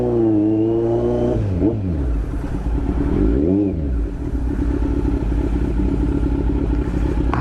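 Motorcycles and cars crawl through traffic beside a bridge rehabilitation site, engines revving and clattering close by, with several rising and falling passes over a continuous low rumble.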